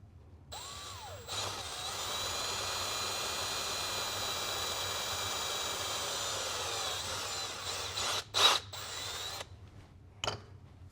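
A power drill boring a hole in a knife handle, a steady whine held for about seven seconds, then cut off, with a couple of brief bursts and clicks afterward.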